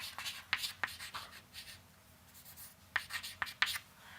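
Equation being written on a board during a lecture, faint scratchy strokes and sharp taps of marker or chalk coming in irregular clusters, quiet and close.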